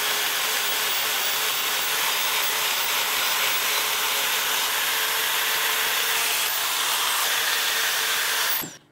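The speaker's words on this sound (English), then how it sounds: "Can't believe we're this far into the video and I haven't used my power file yet." A power file grinds on a steel Viking helmet piece in a continuous loud abrasive whir that holds steady before stopping abruptly at the end.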